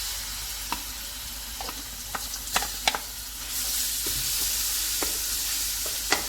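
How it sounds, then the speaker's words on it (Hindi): Ginger garlic paste hits hot oil for aloo gosht, sizzling steadily up close while a spoon stirs with scattered sharp clicks and scrapes, and the frying swells louder partway through; no talk. "अभी इसी ऑयल में हम अदरक और लहसुन का पेस्ट डाल देते हैं।"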